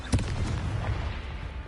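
A Confringo fire-blast spell explosion in the Hogwarts Legacy video game, one sharp boom near the start with a low rumbling tail, moderately loud and alone.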